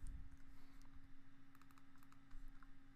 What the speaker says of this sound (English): I'm just going to type out some numbers here